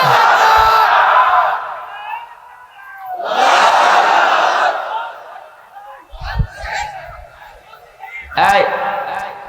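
A large crowd at an Islamic sermon gathering roars back the takbir, two loud unison shouts answering a speaker, followed by scattered voices and further calls.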